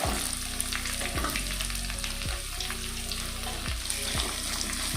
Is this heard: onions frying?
yes